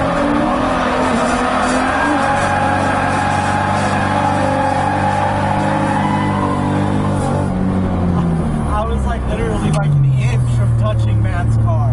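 A car drifts on a race track, its engine roaring loudly with rising and falling revs and tires squealing throughout, heard from nearby while people talk.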